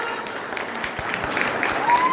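A crowd at a jayanti festival claps in a strong round of applause, dense and sustained, with some voices faintly mixed underneath.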